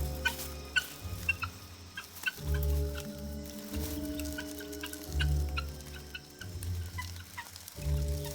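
Guinea fowl call loudly in repeated harsh, cackling bursts, several birds overlapping in an uneven rhythm, close by in the wild, with short gaps between volleys.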